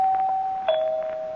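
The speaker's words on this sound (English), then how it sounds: "ring the doorbell again" A two-tone doorbell chime in an old-time radio mystery drama, a clear higher note followed by a lower sustained note, ringing once on its own without speech.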